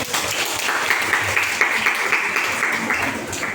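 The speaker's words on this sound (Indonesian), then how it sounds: "Tepuk tangan." A school audience at a junior high school claps in a steady, sustained round of applause, moderately loud and continuous.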